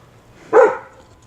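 A single short, loud bark from a dog, close by in a home kitchen, with quiet before and after.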